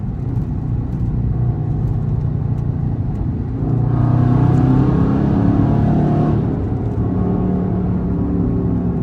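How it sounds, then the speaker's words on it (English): A 400hp Dodge Charger at full throttle, heard from inside the car as a low steady engine rumble that swells louder for a few seconds mid-run before settling back to a cruising drone. "But I will be flooring that shit."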